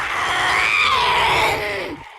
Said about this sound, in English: That's a new scream.